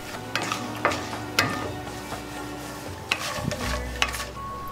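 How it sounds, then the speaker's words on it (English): Chana dal and spices such as cumin seeds sautéing in a pan, with a steady sizzle and occasional scrapes and taps of a stirring utensil, close up, with no voices. "Saute a little."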